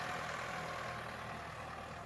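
A farm tractor engine idles in a Thai rice-field setting, a steady low rumble with a broad mid-range hum, holding even and continuous throughout, close by and with no talk over it.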